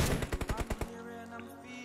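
Rapid automatic gunfire in the mobile shooter BGMI, a close burst of about eight quick shots that stops abruptly, followed by lingering game ambience.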